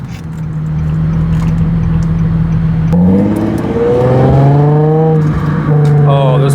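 A car engine holds a steady, loud drone inside a tunnel, then gets floored and revs hard, its pitch climbing sharply through the second half.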